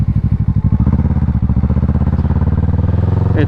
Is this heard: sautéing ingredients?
no